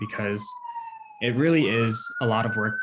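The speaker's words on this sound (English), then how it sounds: "apologize for the siren" Siren passing outside, a long rising and sliding wail that carries on beneath someone talking indoors, clearly audible between and behind her words.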